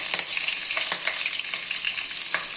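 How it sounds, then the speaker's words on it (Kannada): Garlic, green chillies and curry leaves fry in hot oil in a kadai, a loud continuous sizzle with occasional stirring scrapes, close and alone. "ಇದನ್ನೆಲ್ಲ ಸ್ವಲ್ಪ ಫ್ರೈ ಮಾಡ್ಕೋಬೇಕು"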